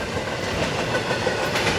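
Eastbound freight train passing through Fullerton, a steady loud rumble of rail cars with continuous clickety-clack wheel noise, heard alone.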